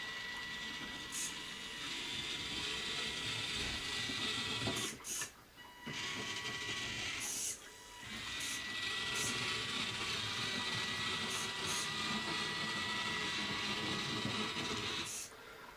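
An RC Peterbilt 379 model truck runs in low gear with a steady, close electric motor and drivetrain whir and hiss, broken by two short pauses.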